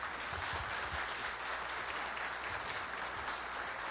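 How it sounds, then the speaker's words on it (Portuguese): An audience at a tourism forum in São Carlos gives a steady, dense round of clapping that runs unbroken through the clip at moderate volume, with no speech. "eu gostaria de uma salva de palmas para vocês que estão presentes aqui"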